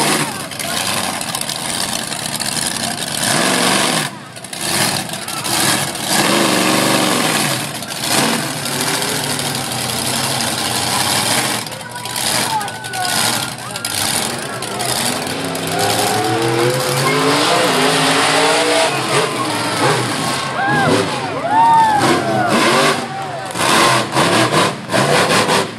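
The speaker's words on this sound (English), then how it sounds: "liking this monster truck show." Monster truck engines roaring at a monster truck show, loud revving and sustained engine noise over a crowded arena ambience with voices mixed in.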